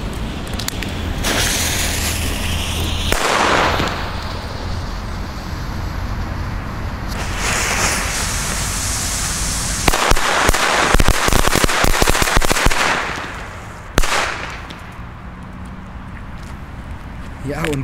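A long ring of Vulcan Reuzen Astronaut firecrackers crackles and bangs in rapid bursts outdoors, loud and continuous, with a denser volley near the end.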